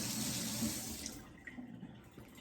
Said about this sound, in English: Rinse this off real quick and dry it.